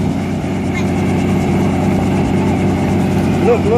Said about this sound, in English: Hey, watch this helicopter.